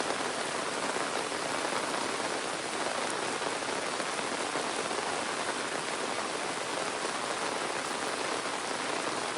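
Heavy monsoon rain pours steadily onto surfaces, a dense, even hiss of countless drops with no let-up and no voices.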